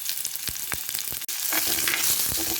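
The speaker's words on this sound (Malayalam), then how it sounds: "ചെറിയ ഉള്ളി നന്നായൊന്ന് വഴറ്റാം." Crushed small shallots sautéing in a hot pan, a steady close sizzle of frying with a few sharp stirring clicks and scrapes; no voices.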